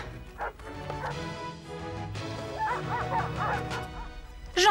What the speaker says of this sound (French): J'entends les chiens.